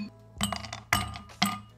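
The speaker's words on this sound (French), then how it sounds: "Donc je vais mettre des petits glaçons." Small ice cubes dropped into a drinking glass while preparing an iced matcha latte, three distinct clinks arriving roughly half a second apart, each with a bright ringing decay, close and alone.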